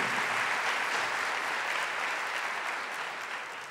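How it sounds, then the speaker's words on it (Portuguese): A crowd applauding during a Catholic priest's talk, with a thick, steady wash of many hands clapping that holds strong and then begins to taper slightly toward the end. "vamos aplaudir essas pessoas que estão acordadas"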